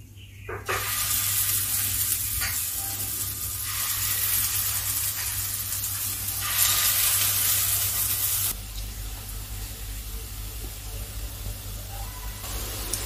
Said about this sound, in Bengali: সবার প্রথমে আমি বড়াগুলোকে ভেজে নিচ্ছি